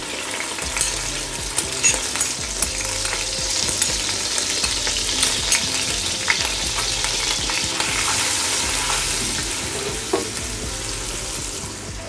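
Onion paste and ginger-garlic paste fry in oil left over from frying beef kofta kababs, making a loud, continuous sizzle with frequent small scraping and stirring clicks throughout.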